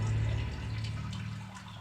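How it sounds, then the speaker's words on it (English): Water runs through a closed-off cave in the indie game Sisyphus Reborn, a gentle, even trickle and wash with a low steady drone underneath, nobody speaking. "A stream of water is flowing through the cave"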